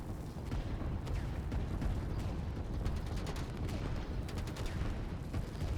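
Artillery fire in the strategy game Line War: a continuous, fairly faint clatter of many distant shots and booms overlapping in an unbroken rumble.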